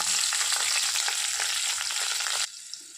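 Chopped shallots fry in oil with a dense, bright crackling hiss that runs strongly, then drops suddenly to a faint background sizzle near the end; no talking.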